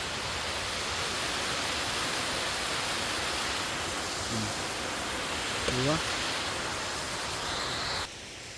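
River water rushes in a steady, broadband roar throughout, close and constant, while someone speaks briefly over it.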